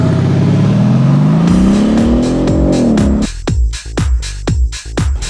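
A twin-turbo 4.6 liter V8 sports car with over 500 pound-feet of torque accelerates hard. Its loud, close engine note climbs for about three seconds, then breaks into a rapid string of sharp crackles and bangs.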